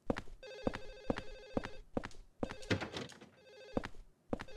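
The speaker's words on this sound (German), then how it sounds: "das Telefonklingen ist irritierend" An in-game telephone rings in the horror game Silent Hill 4: The Room, sounding as repeated bell-like trills separated by brief pauses, clear and upfront with a dark ambience underneath.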